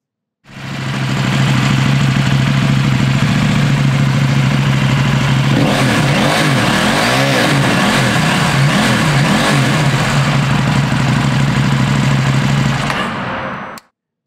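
A 2020 KTM 790 Duke motorcycle engine idles, then revs hard to the red line several times in quick bursts, loud and close, before settling and cutting off.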